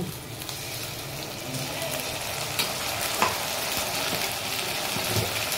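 Ground spices hit onions already browned in hot oil, producing a steady close sizzle with scraping stir strokes and a few light clinks, no one speaking.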